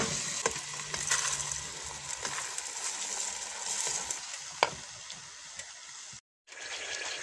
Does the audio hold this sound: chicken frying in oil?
yes